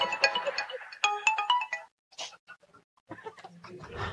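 A phone ringtone plays a bright electronic melody in short repeated bursts, loud and close, separated by brief pauses and a few other small sounds.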